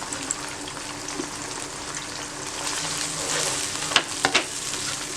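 Garlic is tossed into onions and chillies already frying in a pot, giving a continuous hissing sizzle that builds slightly, with quick stirring clatters of a utensil near the end and no talking.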